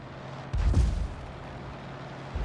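A tank cannon fires once in a tank battle video game, a single muffled low boom that fades quickly, followed by a faint thump.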